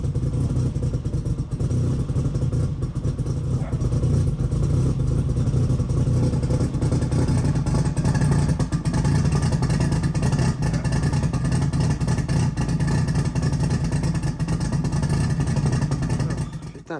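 A car engine drones loudly and steadily with its exhaust valve opened, a heavy continuous low rumble sustained for about sixteen seconds before cutting off abruptly.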